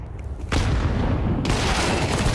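Grenade blasts in the Counter-Strike video game, loud dense booming and crackling game audio that bursts in at about half a second and swells again midway, with no voices.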